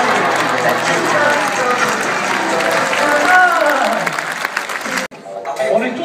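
A crowd applauds and cheers the riders steadily at a Course Camarguaise bull event in Arles, a voice briefly rising above, before the noise cuts off abruptly near the end.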